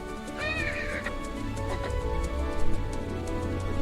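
A pony neighs once in a short rising-and-falling whinny, followed by low rumbling and scattered soft hoof or movement sounds nearby.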